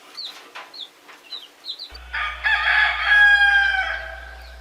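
Crevecoeur chickens on a farm give short, rapid clucks, followed by a long, loud rooster crow nearby, with a low steady hum underneath.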